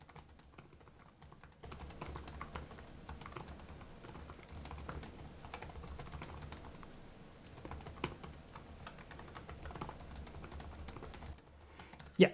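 Fast, steady typing on the keyboard of a Lenovo Yoga Pro 7 14-inch AMD laptop: quiet, close, even clicking of deep-travel keys that runs continuously with a brief pause before the end and no talking.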